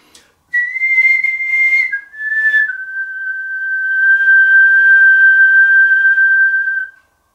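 Professional whistler performing a slow melody while standing upright and facing the audience: a clear, pure whistled tone moving through a few held pitches, the final note sustained for several seconds, close and alone.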